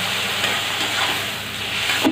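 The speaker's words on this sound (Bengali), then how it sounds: "অল্প জল দিয়ে দিচ্ছি মশলাটা কষানোর জন্য।" Turmeric, chili, cumin and coriander spice paste for a banana flower gravy fries in a pan as a little water is added, giving a loud, steady, close sizzle and hiss throughout.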